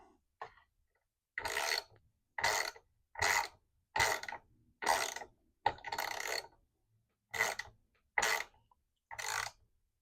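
Socket wrench ratcheting in regular bursts while tightening a part on a legless mid-century modern dresser, about nine close, crisp clicking runs separated by short pauses, with no talking.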